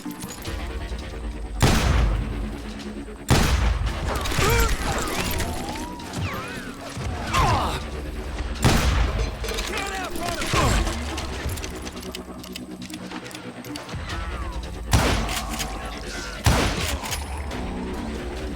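Gunfire crackles through a Call of Juarez: Gunslinger shootout, with sharp bursts of shots recurring every few seconds among booms and ricochets over a continuous background of battle noise and music.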